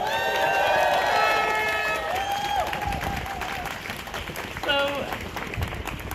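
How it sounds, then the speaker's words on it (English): A protest crowd at a rally in London against the super rich cheers and claps in a sustained roar, with whistles and shouted voices. A speaker's voice carries over the noise through much of it. "So please give 1-1 a really good cheer for me"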